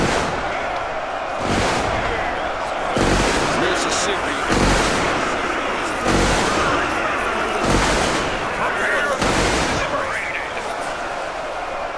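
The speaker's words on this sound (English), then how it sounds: "Right from the start, many orcs are falling to the Modern Soldiers' barrage." Massed gunfire from modern soldiers in the battle simulator game UEBS 2, a dense roaring barrage with regular heavy volley bursts about every second and a half over a continuous crowd-like din of battle.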